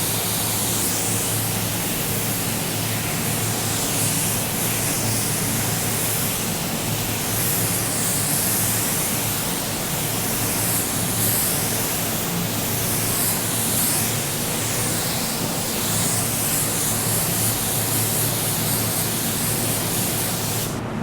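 A spray gun lays base coat paint on a car panel in a continuous, loud hiss that holds steady without pause for about twenty seconds.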